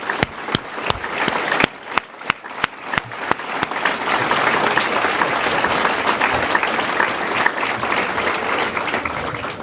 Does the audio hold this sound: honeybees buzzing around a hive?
no